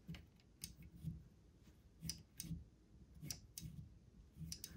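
Faint, small clicks come from inside a hole in a Harry Potter puzzle chest, soft irregular ticks repeating a dozen or so times, close but very quiet, with no talking.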